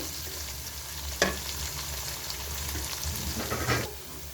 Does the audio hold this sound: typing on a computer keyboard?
no